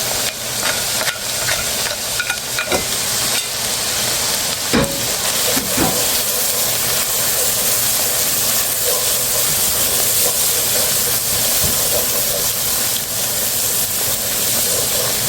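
Spice paste with Kashmiri chili and turmeric for katla fish kalia fries loudly in a pan, a dense continuous hiss with occasional scrapes and taps, close and alone.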